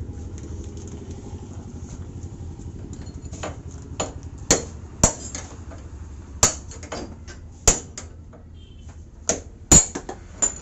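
Sharp metal hammer strikes knocking the steering-head ball bearing race out of a Bajaj Pulsar motorcycle, about a dozen irregular ringing blows growing louder over a low background rumble.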